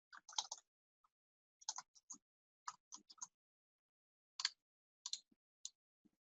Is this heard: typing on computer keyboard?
yes